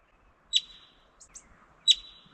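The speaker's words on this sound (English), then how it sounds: "We have some marmots out there chirping at us." Two sharp, high-pitched chirps of yellow-bellied marmots ring out about a second and a half apart against a quiet outdoor background in Colorado.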